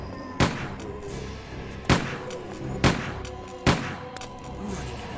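Video game gunfire in Grim Fandango, four separate loud shots spaced about a second apart, each with a short echoing decay over a low background.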